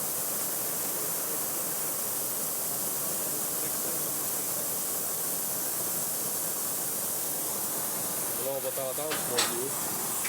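An oxyacetylene torch flame heating a pipe for brazing gives a steady, close rushing hiss that continues without a break, with a brief faint metallic tinkle near the end.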